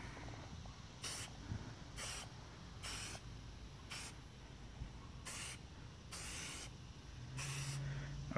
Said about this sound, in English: you have to spray it a couple of times.